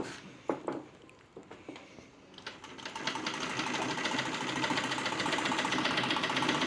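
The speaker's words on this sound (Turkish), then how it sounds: "Türkiye üretimi olan biraz daha tıkır tıkır, hafif biraz daha sesli çalışıyor ama o da son derece yumuşak ve güzel çalışıyor" A Turkish-made Singer 191 sewing machine starts with a few clicks and knocks, then settles into a steady, fairly loud rapid stitching chatter that runs close and continuous to the end.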